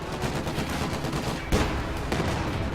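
A Puma armored car fires in a combat video game, with a sustained rattle of rapid gunfire and two heavier bursts standing out, dense and continuous with no talk.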